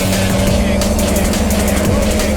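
Track-prepped Mitsubishi Lancer Evolution X at speed on a race track, a loud, steady engine drone with road and wind roar heard from inside the car, continuous throughout.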